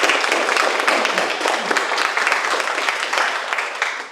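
Steady, full applause from an audience welcoming Sherry and Rob Morrill at a Concord Historical Society event marking 100 years of Morrill Farms in Penacook, NH; the clapping stays dense and even, then tapers slightly at the end.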